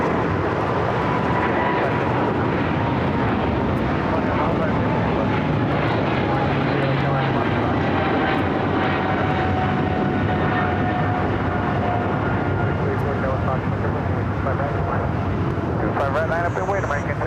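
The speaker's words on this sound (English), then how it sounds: "we got the Japan Airlines 777 now rolling down" Japan Airlines Boeing 777 rolling down the runway at LAX, a sustained, loud, rumbling jet roar with a faint rising whine across the whole stretch, while people talk over it.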